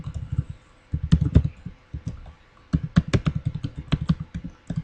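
An email address is typed on a computer keyboard in close, crisp bursts of rapid key clicks separated by brief pauses.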